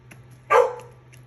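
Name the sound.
dog barking behind a closed door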